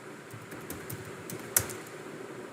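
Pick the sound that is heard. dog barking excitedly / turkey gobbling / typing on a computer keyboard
typing on a computer keyboard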